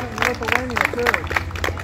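Protest crowd cheering and clapping, scattered applause and shouts rising together with a speaker's voice over them, close and fairly loud.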